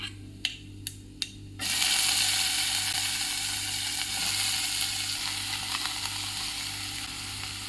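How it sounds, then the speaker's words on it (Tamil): Chopped bitter gourd is stirred into hot oil with mustard seeds and urad dal, three sharp clacks against the pan before a loud, steady sizzle of sautéing that continues throughout. "நல்லா வந்து எண்ணெயிலே வந்து நல்லா வதக்கிடணும்"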